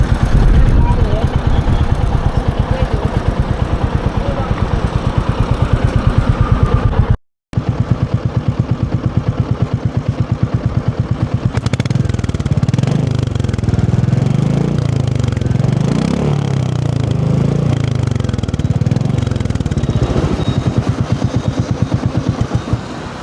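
A Royal Enfield Bullet 350 motorcycle rides along on a family trip to a temple, its steady thumping engine loud and continuous with a brief cutout, while people talk over the running motor.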